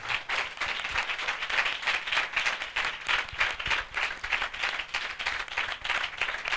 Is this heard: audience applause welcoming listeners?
yes